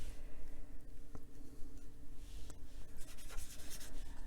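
An Inktense pencil shades a giraffe drawing on paper, giving soft scratchy strokes in short bursts with brief pauses, close and fairly quiet, with no voices.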